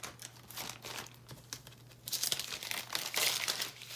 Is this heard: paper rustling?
yes